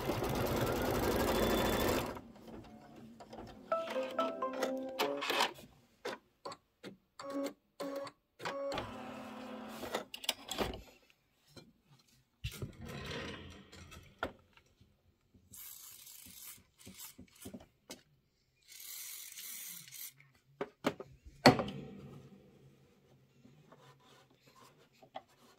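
An embroidery machine stitching a Kimberbell seasonal table runner runs close up in rapid mechanical bursts, stopping and restarting between short pauses after a loud opening whir.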